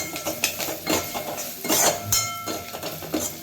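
A spoon stirs chili into eggplant bharta in a pan, giving a run of close, light metallic scrapes and clinks against the pan at an uneven rhythm, with no talking.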